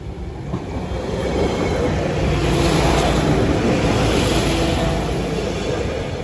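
A train rumbles steadily past the Saxilby West Bank level crossing, loud and close, with a sustained roar of wheels on rails and faint high-pitched squeal throughout.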